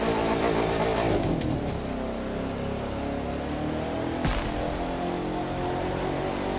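Engine of a buggy in the racing video game The Crew 2, a steady, warbling drone with stacked tones that dip and rise, plus a brief sharp knock partway through; no talking.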